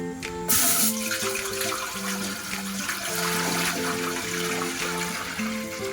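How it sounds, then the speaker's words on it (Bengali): Water poured into a cooking pot for rice, a steady splashing gush over background music, loudest at the start and continuing throughout. "ডেচকি বসিয়ে দিচ্ছি জল দিয়ে দিচ্ছি"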